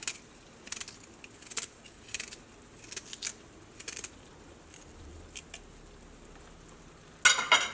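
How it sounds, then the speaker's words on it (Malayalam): Ginger being chopped into small pieces with a knife on a board for a tomato curry: a series of brief, fairly quiet cutting taps in irregular clusters, ending with a louder burst of clatter. "ഇഞ്ചി നമുക്കൊന്ന് ചെറുതായിട്ടൊന്ന് കട്ട് ചെയ്തിട്ടിടാം."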